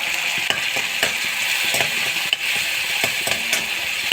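Tomatoes sauté in a hot pan with a steady sizzle, while a spoon scrapes and taps the pan in a quick, regular rhythm close by.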